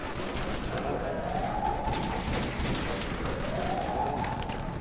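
Turret gunfire in a Call of Duty: World at War zombies custom castle map, steady rattling bursts with booming impacts and sweeping tones, continuous at moderate level throughout.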